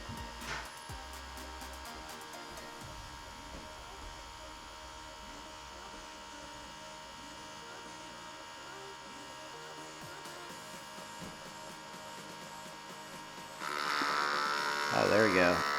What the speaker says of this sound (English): you can feel it's some kind of like water pump pushing in there